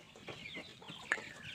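Free-range village chickens cluck faintly in a backyard run. A few soft, short clucks come in brief bursts, with one sharper call partway through.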